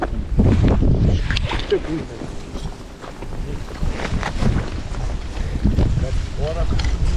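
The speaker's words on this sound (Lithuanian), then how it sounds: "Vėjas pakyla." Gusty wind blowing outdoors beside the water on an early autumn salmon-fishing outing, a rough buffeting rush on the microphone that swells and eases, with people talking briefly over it.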